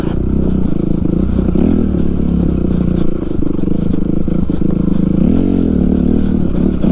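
A 2005 Kawasaki KX 250F dirt bike rides a rocky trail, its engine droning loud and close throughout with steady revving, while rocks clatter and scrape beneath the tires.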